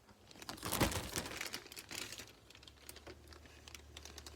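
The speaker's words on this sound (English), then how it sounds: "I'm also going to take and put these plastic bags back onto the plants" Thin plastic bags crinkle as they are pulled back over potted plants to make a greenhouse cover, a close, rustling burst early on that tapers into softer intermittent crackles.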